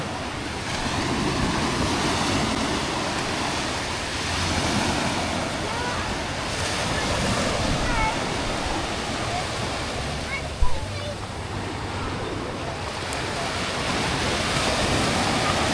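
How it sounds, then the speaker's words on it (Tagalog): Continuous roar of ocean surf washing onto the shore, with wind buffeting the microphone and a brief knock partway through. "Sarap po ng hampas ng alon."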